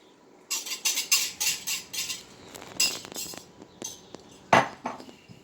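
A utensil stirs egg and mozzarella together in a dish, giving a run of close clinks and scrapes in bursts with short pauses, then a sharper clack near the end; no one speaks.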